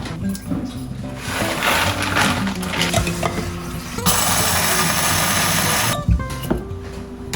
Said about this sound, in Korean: 배 갈아? 얼마큼 갈아?